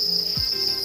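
Crickets chirp at a cricket farm in Madagascar that raises them for protein powder, a loud, steady, continuous high trill filling the short stretch.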